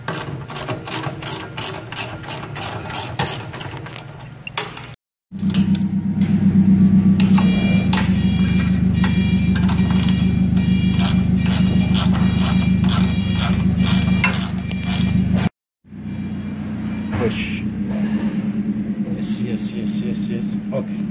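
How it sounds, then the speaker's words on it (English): Ratchet wrench turning while removing an F70L, loud rapid clicking pawl ratcheting over a steady low mechanical drone, broken by two brief silences and ending in sharper scattered clicks. "I'm just showing you can do it with a crescent wrench, a ratchet, whatever."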